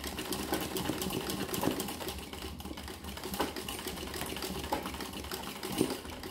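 A sewing machine doing machine embroidery of a blue chrysanthemum flower, running steadily with a rapid continuous stitching rattle and low motor hum, close and uninterrupted.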